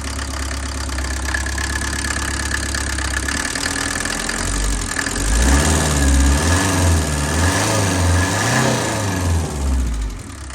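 A Mercedes 308D diesel engine in a motorhome build running loud and close, a steady throbbing idle that rises into a heavier, wavering rev partway through before settling back.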